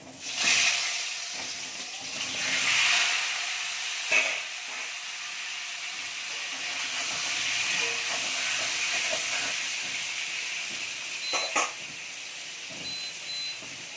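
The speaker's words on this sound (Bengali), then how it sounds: "এখানে পনির ভাপা হচ্ছে" Steam hisses steadily from a pot where paneer is being steamed, a broad rushing hiss that swells and eases, with a few faint kitchen clinks.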